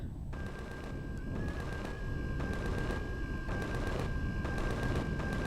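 Automated turret gunfire from a capital ship in the sci-fi survival game Empyrion Galactic Survival, a steady stream of repeated shots with a continuous tone running underneath, fairly loud and dense throughout, with no talking.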